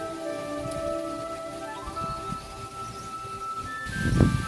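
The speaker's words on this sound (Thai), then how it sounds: "วันนี้ลมแรงมากนะครับ วันนี้ครับ นี่ครับ พัดเต็นท์ปิวเลยครับนี่ครับ" Strong wind buffets a tent at a forest retreat in Thailand, a steady rustling, flapping wash of fabric noise that swells into a louder gust near the end, with faint tonal sounds in the background.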